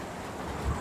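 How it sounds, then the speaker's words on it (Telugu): Steady monsoon drizzle falling outdoors, a continuous even hiss of rain with a low rumble underneath, heard alone. "వర్షం వస్తానే ఉన్నది,"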